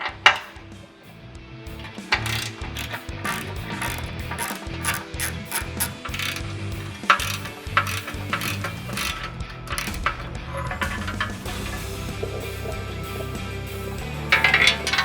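A ratchet wrench loosens 12mm bolts on the skid plate of a Toyota 4Runner, with quick repeated clicking runs of the pawl, pauses and light metallic clinks, close and clear with no talking.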